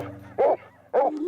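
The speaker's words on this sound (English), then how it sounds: "The dogs are on them, guys." Hunting dogs chasing coyotes in Utah bark loudly and close, two sharp bays about half a second apart with whining yips in between, no talking.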